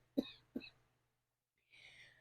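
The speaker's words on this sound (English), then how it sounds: "Excuse me, I'm going to cough." Two quick, close coughs in succession, then a short pause before a faint breathy sound follows.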